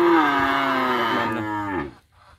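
Cattle at a Ben Tre farm give one long, loud, close moo that falls in pitch toward its end, followed by a brief faint trailing sound.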